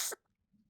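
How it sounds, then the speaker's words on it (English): A single sharp sneeze bursts out close to the microphone, very short and loud, then gives way to near silence with faint breathing. "That sneeze was coming for a very long time"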